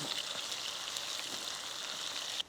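Green chillies and ginger garlic paste sizzle in hot oil on a stove turned low, making a steady, close hiss of frying that fills the short stretch and then cuts off.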